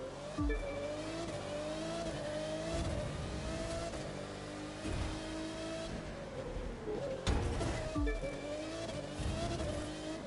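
Racing cars in The Crew 2 roar and rev continuously, engines rising and falling through gear changes with tire squeal and skidding on corners during a city championship final lap, loud and steady with no talk.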